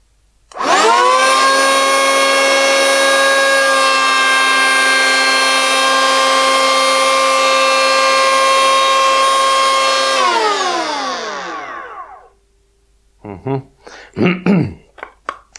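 A cordless 18V Dedra DED7066 electric planer cuts a rebate in a short board with a loud, steady high-pitched whine. It then spins down and is followed by a few brief handling knocks.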